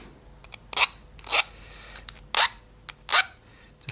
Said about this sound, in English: I'm just going to clean up those edges with a file.